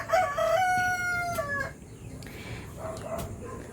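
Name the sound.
chickens, rooster crowing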